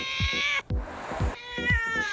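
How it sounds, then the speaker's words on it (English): A house cat meows repeatedly in a close, clear series of drawn-out calls with short gaps, alone without talk. "This is my cat, Louie,"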